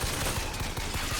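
Rapid automatic gunfire in BioShock Infinite, a dense loud rattle of close shots running through the brief moment.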